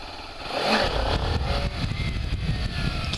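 A 2013 Kawasaki Ninja 300 motorcycle engine revs up and holds around 5000 rpm in a flat parking lot, a steady close droning whine with slight wavering pitch throughout.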